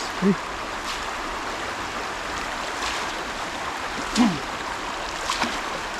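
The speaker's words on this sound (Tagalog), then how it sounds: "Madaras na agos" A strong river current rushes steadily, a continuous broad wash of flowing water close by, with a few brief faint knocks and splashes.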